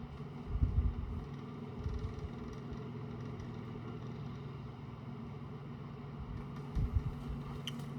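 A vintage 1978-79 Crosley fan oscillating with worn bearings gives a faint, steady low motor hum, with a rougher rumbling swell near the start and again near the end.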